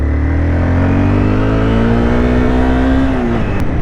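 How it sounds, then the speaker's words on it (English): A small Honda CB250R motorcycle engine revs up steadily and loudly close by, its pitch climbing smoothly over a few seconds before easing off. "I'm on a Honda CB250R"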